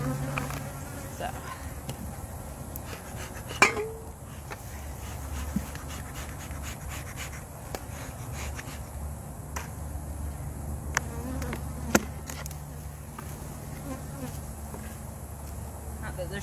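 Honey bees buzzing around a backyard hive, a low, continuous hum with occasional nearer passes and faint clicks and handling noises, quiet overall.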